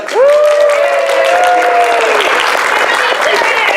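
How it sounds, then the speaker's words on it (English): An audience at a convention stage at IFC 2018 breaks into loud, sustained applause, opening with a rising cheer and continuing as a dense wash of clapping with voices mixed in. "Everybody round of applause."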